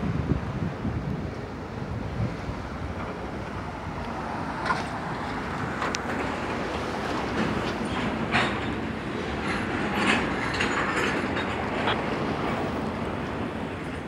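Norfolk Southern freight train 213 rumbles past near the Queen Street bridge in South Greenville, a long, steady, broad roar with wind buffeting the microphone and faint metallic squeals and clanks rising now and then.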